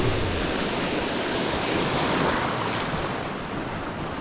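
Ocean swell surging against a rocky shoreline in Cardigan Bay, West Wales: a steady, loud wash of surf with a gusty wind roar across the microphone, continuous and close with no talking.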